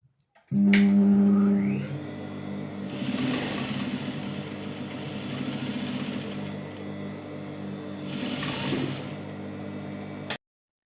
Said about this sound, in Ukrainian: Обшивку складаємо з основної деталі, урівнюючи зрізи та прокладаємо строчку.